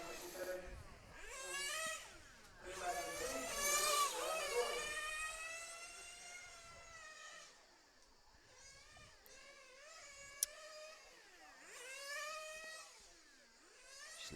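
A 1/8th scale nitro RC race car buzzes around a track at a European championship, its high-pitched engine rising and falling through upshifts as it passes, loud then fading, with a crowd faintly behind.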